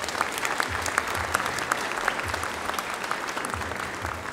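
A hall full of people claps steadily at a high school graduation ceremony in Brodnica, a dense, even applause with a low musical hum underneath and no talking.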